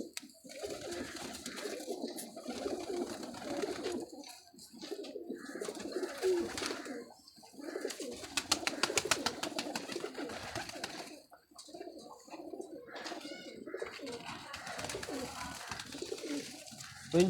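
Pigeons kept for sale, a flock of about 45 pairs, coo steadily and overlap one another for the whole stretch, with soft rustling and no talking.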